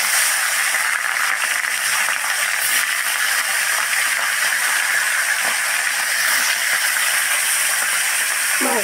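Fish frying in hot oil in a wok, a steady loud hiss and crackle that holds at an even level throughout, close and continuous with no speech over it.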